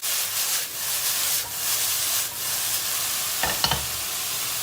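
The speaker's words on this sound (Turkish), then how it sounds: "Yüksek ateşte soteleme işlemine devam edeceğiz." Eggplant, onion and pepper sizzle loudly in a pan over high heat with a steady frying hiss, and a few sharp scrapes of stirring come near the end.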